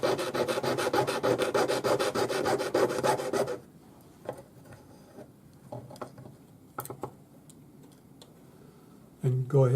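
A jeweler's saw rasps through small metal jump rings in rapid, even strokes for a few seconds, then stops, leaving faint handling clicks and taps before a brief burst of sawing resumes at the end.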